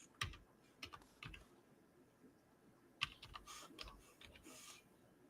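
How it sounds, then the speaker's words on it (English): Keys tapped on a computer keyboard in a few quiet, irregular bursts with pauses between them, close and soft, and no one talking. "Jose, I'm going to type these out for you."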